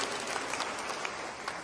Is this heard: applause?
yes